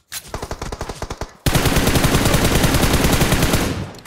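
Video game gunfire: a quick string of separate rapid shots, then a loud unbroken burst of automatic fire, close and dominant, with no voices.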